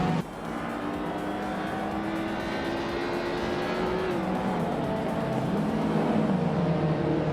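1996 Mazda Miata racing at Automotodrom Grobnik in a racing video game: dense, loud engine whine from the start, with several cars' tones overlapping, pitches rising and falling through gear changes and passing cars.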